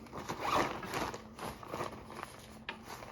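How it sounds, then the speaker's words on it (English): The two top zippers of an Outdoor Vitals Drifter backpack are pulled open outdoors on a hike, giving a few quick close ripping runs of zipper teeth, with no talking. "It has two zippers on the top."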